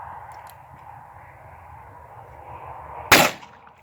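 A single sharp .22 Magnum gunshot fired outdoors at a survival kit, one loud, abrupt crack near the end after quiet background noise.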